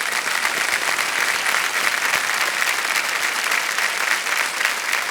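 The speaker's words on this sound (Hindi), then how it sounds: "तालियां बज जाएं इनके लिए।" A studio audience on a quiz show gives sustained, loud, even applause for about five seconds, a thick crackle of many hands clapping with no voices.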